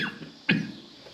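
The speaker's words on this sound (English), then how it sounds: "I don't know why I'm coughing." A person lets out a single short cough up close, a sharp burst following a faint murmur and settling into quiet room tone.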